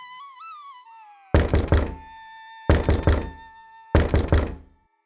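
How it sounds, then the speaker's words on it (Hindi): After a short rising-and-falling tonal whistle, a door is knocked in three loud bursts, each a quick cluster of heavy thumping knocks close by, with short silences between them. "अचानक दरवाजा खटखटाने की आवाज आती है।"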